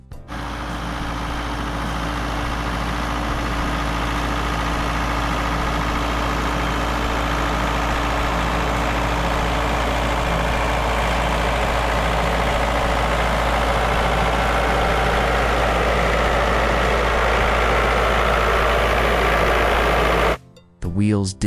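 Tractors bogged in soft mud after rain, engines droning loud and constant in a heavy low rumble, cutting off abruptly near the end.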